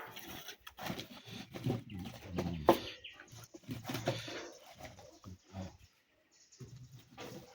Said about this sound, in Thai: ไก่ก็มีบ่ไก่เนี่ย